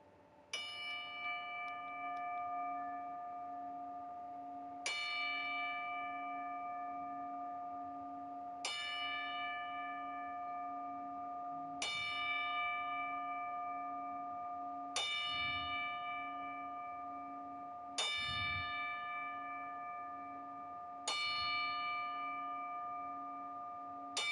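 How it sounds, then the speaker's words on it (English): Ten-bell salute for wrestler Sabu at a wrestling event: a single clear bell rings at slow, even intervals of about three seconds, each strike decaying into a long sustained tone, alone without talk. "we're going to do a 10-bell salute for Sabu"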